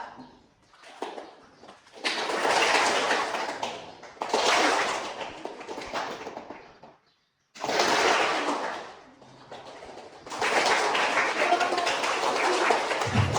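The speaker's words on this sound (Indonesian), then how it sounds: "jadi permainan adalah permainan tepuk tangan" Children clap their hands in a classroom clapping game, moving from soft to loud in several bursts of rapid applause separated by short pauses, with a teacher's voice talking between them.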